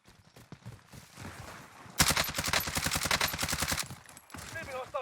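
Rapid gunfire in a Warzone battle royale match, a dense burst of automatic shots in the middle with quieter scattered shots around it and players talking under the fire.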